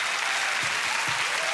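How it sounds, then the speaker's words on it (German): Dense audience applause fills the room steadily and loudly from start to finish, with a few faint low thumps underneath. "Jubel auf. Applaus auf."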